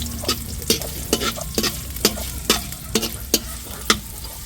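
Ginger sautéing in hot oil for a home-cooked buffalo meat dish, a constant sizzle broken by about ten sharp, regular scrapes of a spatula stirring the pan, close and clear.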